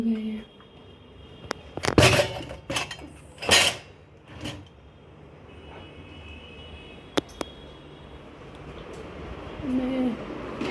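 Dishes, pots and pans clatter in a home kitchen: a few sharp metallic clanks and knocks near the start, then sparse clinks against a steady room hum, with no talk.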